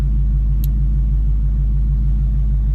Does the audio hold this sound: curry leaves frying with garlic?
no